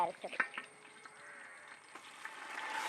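Ginger and garlic paste frying in a pan for a buffalo rib kappa biriyani gives a faint, close sizzle with scattered stirring scrapes, the sizzling growing slightly louder toward the end.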